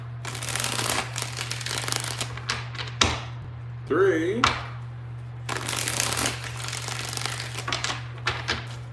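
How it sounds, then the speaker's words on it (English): Tarot cards shuffled by hand in repeated riffling bursts, close and crisp, with a steady hum beneath and a brief pause midway; a voice talks in short phrases over part of it. "Let's get 5 shuffles for the first spread."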